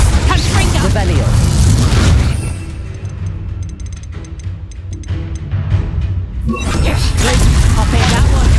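A Confringo explosive spell blasts in the video game Hogwarts Legacy, a loud, booming roar that fades into a quieter shimmering stretch before another loud burst erupts, with voices shouting over it.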